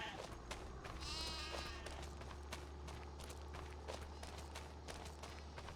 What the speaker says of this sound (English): Sheep are raised to give wool